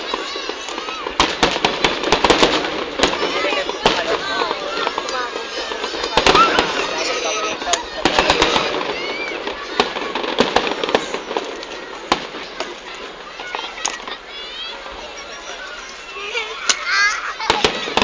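Fireworks burst in a dense, continuous barrage of crackles and sharp pops at an outdoor pyrotechnics competition in the Philippines, with a crowd chattering and children talking throughout.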